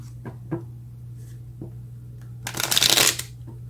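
Tarot cards being shuffled during a reading: a few soft, separate card taps early on, then one dense, loud riffling burst near the end, set against a steady low hum.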